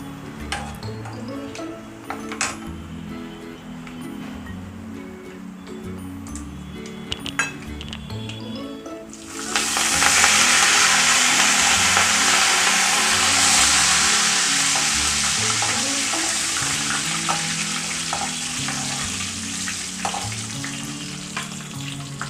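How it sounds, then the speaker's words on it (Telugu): Mustard seeds, cumin and dried chillies dropped into hot oil for tempering, the pan bursting into a loud, steady sizzle midway after a stretch of clinking utensils and stirring, then slowly easing. "తాలింపు వేగింది కదండి"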